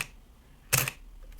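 A Canon 30D DSLR shutter firing once, a crisp mechanical clack close to the mic, with a faint echo of mechanism noise after it in an otherwise quiet room.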